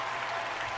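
A brief burst of steady applause from a crowd, dense and even throughout, with no voices standing out.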